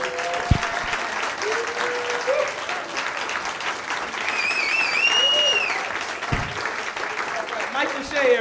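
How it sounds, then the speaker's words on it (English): Comedy club audience claps steadily throughout, with whoops and cheers rising midway and a host's voice heard over the applause. "make that round of applause keep on going"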